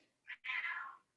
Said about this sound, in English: Somebody's kitty is talking.